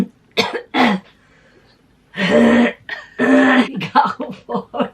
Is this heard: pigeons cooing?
no